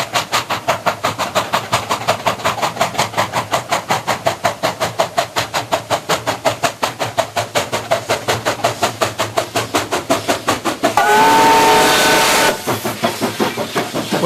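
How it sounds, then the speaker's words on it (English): A JS steam locomotive working up a hill at the Chengde steel works, with rapid rhythmic exhaust chuffs throughout and a loud steam whistle blast near the end, close and prominent. "Blast on the whistle."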